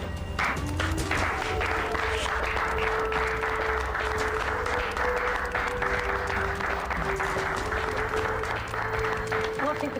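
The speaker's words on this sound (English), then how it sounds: "everyone clapped and had to show their appreciation for the fact that I found the killer clue" A group of housemates clapping and cheering to greet a returning investigator in a small-town murder mystery show, steady loud applause throughout with voices talking and calling out over it.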